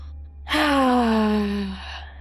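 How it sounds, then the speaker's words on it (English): One slow, deep breath is drawn during a guided relaxation practice, a close, soft airy rush that swells and then fades over about a second and a half, heard alone. "take 3 deep breaths with me"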